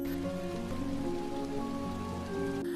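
Heavy rain pours steadily in an animated children's story about a small beetle, a continuous wash of falling water that holds at an even level throughout with no voices.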